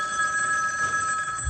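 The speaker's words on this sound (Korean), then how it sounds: "바로 그때 할머니에게 한 통의 전화가 걸려옵니다." A telephone rings with a steady, bright electronic bell tone that holds continuously and close, loud and alone with no voices, ending in a brief low thump.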